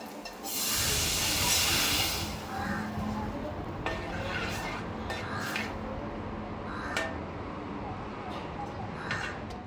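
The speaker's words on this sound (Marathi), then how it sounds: "कांदा इकडे सॉफ्ट झालेला आहे, तर त्याच्यात आपण ॲड करूया पाणी" A loud burst of hissing and sizzling as water hits softened onions in a hot pan, settling into a steady bubbling sizzle with a few sharp clinks.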